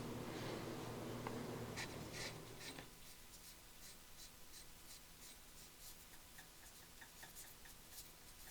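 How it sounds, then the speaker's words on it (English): A rag rubs rust off a firearm in a series of soft, scratchy rhythmic strokes. The scrubbing is fairly quiet and close, louder for the first few seconds and then lighter and sparser. "let's go ahead and rub it down a little bit more and see if we can get any of this final traces of rust off"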